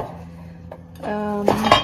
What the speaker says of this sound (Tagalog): Kunin natin ang kaldero.